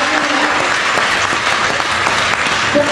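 An audience at a ceremony applauds, a dense, steady clapping that fills the room, loud and sustained for a few seconds.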